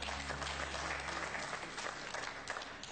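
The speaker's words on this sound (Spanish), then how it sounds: "Ali vi aplaudirate kao da i vi to radite." A TV studio audience applauds steadily, a dense patter of clapping that stays even throughout without any voices on top.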